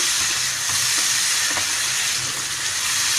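Potatoes for aloo palak methi sauté in a hot pan with a steady, close hiss and sizzle that runs the whole time without pause.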